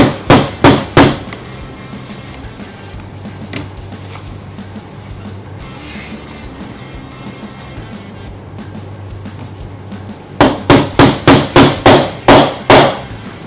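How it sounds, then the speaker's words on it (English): A hammer strikes wood in quick bursts: four sharp blows at the start, a quiet stretch, then a rapid run of about nine more hits, loud and close. "Start nailing it down."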